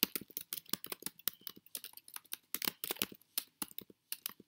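Rapid bursts of clicking keystrokes on a computer keyboard, close and crisp, arriving in irregular clusters with brief pauses between them.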